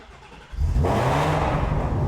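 A 40-year-old carbureted classic car engine cranks briefly, then catches and fires up into a loud, steady idle close by.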